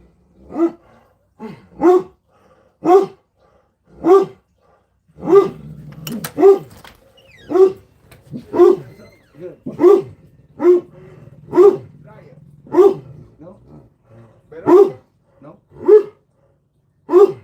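A dog barks repeatedly at a steady pace, loud and close, with a low rumble under a few of the barks.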